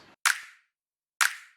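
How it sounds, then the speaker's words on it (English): Two crisp finger-snap samples from a slap house beat, about a second apart, each a bright sharp crack with a short tail, played alone. "I added these snaps"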